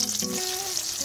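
Eggplant fries in oil in a pan, a brief, even, close-up hiss of bubbling sizzle with a faint tonal whine underneath and no speech.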